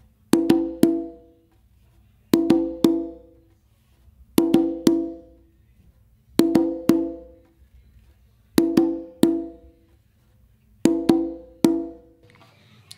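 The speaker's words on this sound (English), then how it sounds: "with one open with my dominant hand on the drum, then another open with my non-dominant hand on the drum" Open tones struck by hand on a hand drum in a simple funk groove: six evenly spaced phrases, each a quick cluster of three or four resonant, ringing hits separated by short silences, close and clear with no talking.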